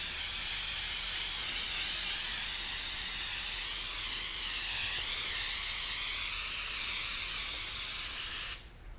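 A steady, loud hiss of liquid being sprayed onto commercial vehicle vinyl graphics to strip them runs without a break for about eight seconds, then cuts off abruptly.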